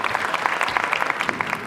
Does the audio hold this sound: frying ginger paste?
no